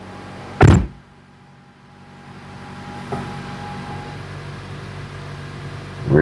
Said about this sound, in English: Gotta shut the door maybe.